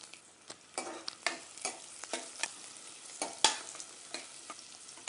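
Onion and green chili frying in a pan make a steady sizzle, broken by repeated sharp scrapes and taps of a spoon stirring, one louder clack near the end.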